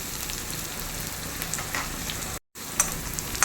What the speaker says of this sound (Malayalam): കൊച്ചുള്ളി ഒന്ന് ചെറുതായിട്ടൊന്ന് വാടി വരട്ടെ ഒരുപാട് അങ്ങ് ബ്രൗൺ കളർ ആവണ്ട വാടി വന്നാൽ മതിയേ